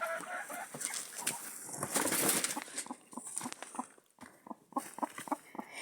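A broody Turkish hen clucks in a series of short, soft, rhythmic calls close by, with rustling patter in the background as eggs are set beneath her.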